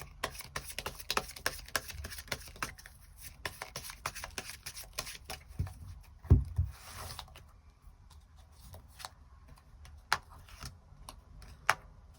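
Tarot cards being shuffled and drawn by hand, soft close crisp ticks and flicks in irregular bursts, with a faint thump partway through and no speech.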